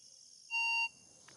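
A gold-hunting metal detector gives one short, steady electronic beep as its alarm, clear but fairly quiet, against a faint background hiss.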